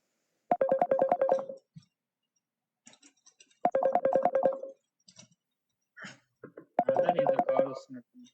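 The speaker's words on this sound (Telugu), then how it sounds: "కాల్ వస్తున్నట్టుంది." An incoming call rings on a phone: three separate bursts of electronic ringtone, each about a second long and spaced a few seconds apart, clear and fairly close, with a few faint sounds in the gaps between them.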